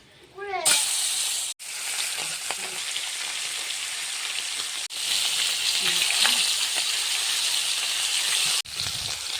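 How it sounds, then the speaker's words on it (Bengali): Pieces of shating fish sizzle one by one in hot oil dusted with turmeric in a kadai, a loud steady crackling hiss that stops and restarts several times, with brief voices at moments. "তেলটা গরম হয়ে গেছে, এক এক করে মাছগুলো ভেজে নেব।"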